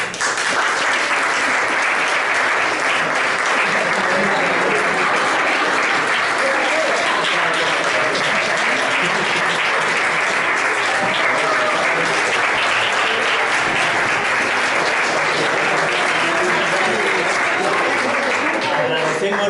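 An audience at a science workshop on vibrations and waves gives sustained, loud, even applause that runs unbroken for nearly twenty seconds, welcoming a guest appearing as Galileo Galilei.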